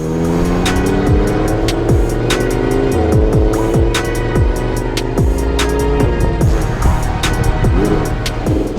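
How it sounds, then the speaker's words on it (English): An Audi R8 V10 driving on the road, engine loud and close, revving up through repeated gear changes with rising and falling pitch and sharp crackles between shifts. "that's the first drive done on the Audi R8 V10"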